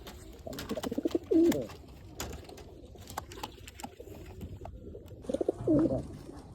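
Pet pigeons kept in a box coop give two separate bouts of deep, rolling cooing, several seconds apart, close and clear over faint background noise.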